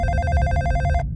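A telephone bell rings in a Hindi-dubbed South Indian action crime film: a rapid, continuous metallic trill, close and fairly loud, that cuts off abruptly near the end.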